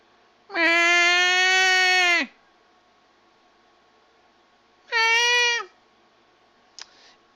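At a wrestling show, a wrestler imitates a cat with his voice: two drawn-out, loud meows, the first long and the second shorter, separated by a quiet gap and followed by a faint brief click.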